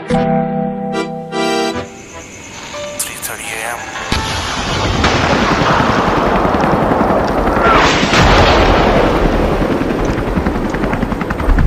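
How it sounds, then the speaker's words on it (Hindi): A mock air strike sound effect with bombing and explosions: a brief tonal intro gives way to a loud, sustained roar of blasts and rumbling, with an aircraft-like drone swelling through the middle. "अरे एयर स्ट्राइक कर दी चाइना ने, बम गिर रहा है हमारे ऊपर"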